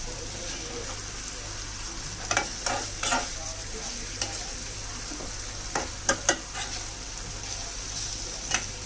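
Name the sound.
stirring stuffed ivy gourd curry frying in a pan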